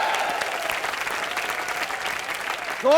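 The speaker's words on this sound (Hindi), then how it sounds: "जोरदार तालियां रॉकी हैंडसम और टीम के लिए" Dense studio audience applause for a comedy show, steady and loud across the stretch, with a brief rising electronic tone at the very end.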